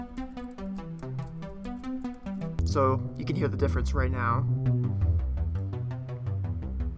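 A Stranger Things style Micropulse synthesizer patch in GarageBand, with delay off and reverb low, plays a bright, tonal, steadily sustained line under a voice talking over it.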